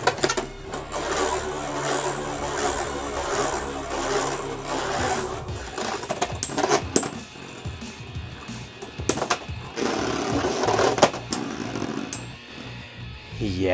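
Beyblade spinning tops fitted with a custom defense wheel clash after launch, giving a continuous whirring rasp punctuated by sharp clicking impacts and scraping bursts, fairly close and of moderate loudness, with occasional voices.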